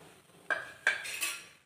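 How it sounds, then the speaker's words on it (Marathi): Whole spices, including a bay leaf, dry-roast in a pan for spicy vajadi fry, with three quick metal scrapes of a spoon against the pan over a quiet background and no voices. "आता हे आधी भाजून घेऊया।"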